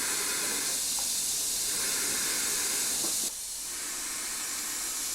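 Steady hissing of a spray gun spraying zinc primer thinned with cellulose onto a Daihatsu Charade, loud and close, with a slight drop in level partway through.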